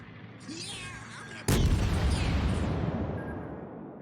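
A warship's main-battery salvo in World of Warships: a sudden loud boom with a sharp attack, then a long rumbling roll-off, set against a low background of engine and sea ambience with faint earlier gun sounds.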